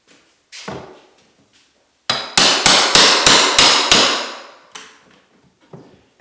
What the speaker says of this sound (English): we need to pull the outside molding off the casing of the door